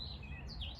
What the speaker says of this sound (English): that there is a robin. It's a song you're probably familiar with over the gardens